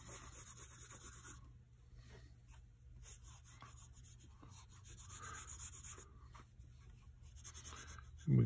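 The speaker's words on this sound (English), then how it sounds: "and I'll put my pencil to work" Pencil scratching and rubbing across paper while shading a caricature nose, close and quiet, in irregular strokes with short pauses.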